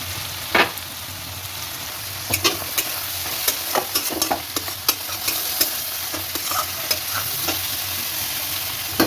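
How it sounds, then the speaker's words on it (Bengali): A masala of spices with coriander leaves being stirred in a hot pan: a continuous sizzle broken by frequent crisp scrapes and taps of a spatula, near and fairly loud, with no speech. "এবার এটাকে একটুখানি নেড়ে নিয়ে জল ঢেলে দেবো।"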